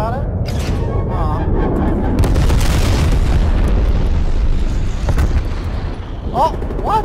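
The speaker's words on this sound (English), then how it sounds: "Napalm strike incoming!" A napalm strike explodes in Call of Duty Black Ops Cold War, a sustained, loud, rumbling roar of fire and blasts that swells and holds for several seconds, with voices speaking over it.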